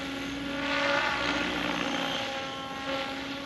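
An XL Power Nimbus 550 RC helicopter flying gentle tail funnels, a steady whining rotor and motor drone with a slight rise and fall in pitch and level, heard close and without talking.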